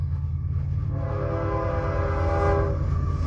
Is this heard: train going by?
yes